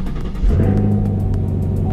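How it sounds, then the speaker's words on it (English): A 2019 Camaro SS V8 running E85 flex fuel cranks with a rough, low rumble and catches into a loud, close idle, a brief clatter of starter pulses underneath. "we're gonna try starting the car right now"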